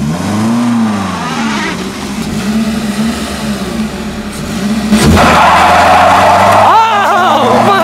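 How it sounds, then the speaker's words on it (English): A car in a town street does a burnout, its engine roaring and revving with wavering pitch, then surging louder near the end with a squeal of spinning tyres, close and loud with voices mixed in. "he's gonna try to do a burnout here"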